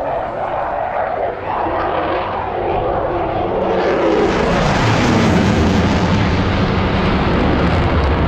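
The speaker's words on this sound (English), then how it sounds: "the sound of these this aircraft is coming through the television. It is so deafening." A loud aircraft roars low overhead in Çalış, Fethiye, Turkey, its engine noise swelling into a deafening, broad rumble as it passes.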